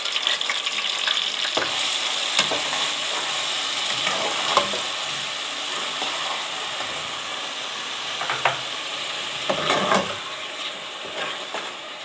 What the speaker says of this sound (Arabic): هنزل كده بالبصله بتاعتي بعد ما السمنه سخنت قوي